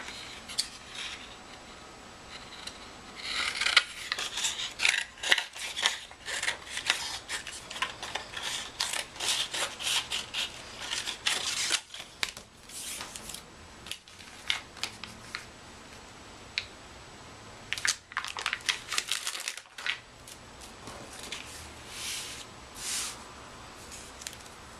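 Scissors snip through scraps of light blue paper at a scrapbooking table, a run of close, crisp cuts and rustles with short pauses between bursts.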